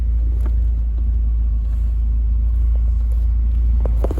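Rover 45 with a 1.6 K-series engine running, a loud, steady low rumble close by with a few faint clicks and knocks, no talk.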